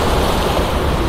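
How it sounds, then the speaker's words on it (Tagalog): Waves at Manila Bay make a loud, steady rush of surf, heard up close as one broad wash of noise with no clear breaks. "magandang alon, no?"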